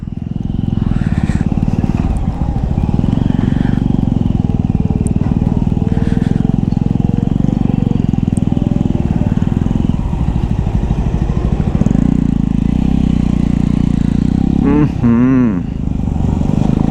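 A motorcycle rides a broken, dusty off-road stretch on the Darjeeling to Gangtok route, its engine loud and close throughout with a steady drone and brief dips, and faint voices beneath.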